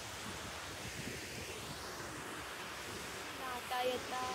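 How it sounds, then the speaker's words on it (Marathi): Sea waves washing in at high tide near an ONGC site on the coast, a low, continuous surf rush mixed with wind buffeting the microphone, steady throughout with a slight swell near the end. "लाटा येतात. भरती आहे."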